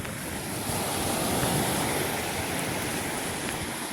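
Sea waves wash steadily against the shore below Ratneshwar Mahadev temple at Rohisa, a continuous broad roar of surf with some wind and no talking.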